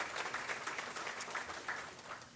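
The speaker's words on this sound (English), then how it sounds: "Everybody give a round of applause." A crowd claps for a basketball coach's 84th birthday at an outdoor university dormitory groundbreaking ceremony, a continuous, moderately distant round of applause with no voices over it.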